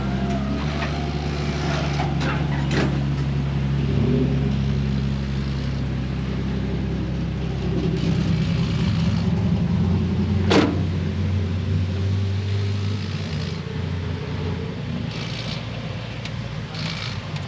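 A lowered Patrol's engine, not driven for a year and a half, idles with a low, even rumble throughout, with a few faint clicks and knocks over the drone.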